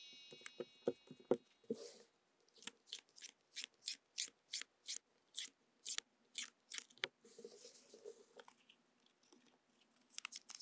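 Tarot cards are shuffled by hand and then drawn. A quick riffle comes first, followed by a steady series of crisp snaps and slides as cards are handled one by one. It is close and quiet, with no voices.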